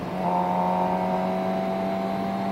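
A motorcycle engine pulls after the shift from first to second gear, its tone rising a little in pitch and then holding a steady, loud hum close by for over two seconds.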